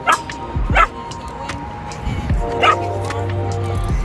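Dogs barking and yipping at a dog park, several sharp barks near and far with a whimper, while people talk in the background.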